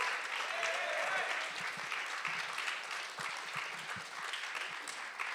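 A live poetry event audience applauds a poet, steady dense clapping filling the room throughout, with faint voices underneath.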